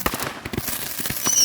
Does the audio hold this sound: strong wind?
no